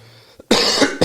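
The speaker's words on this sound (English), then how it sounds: "Glad you allowed me to cough" A single sharp human cough, close and loud, followed by a brief second burst after a quiet moment in a conversational indoor setting.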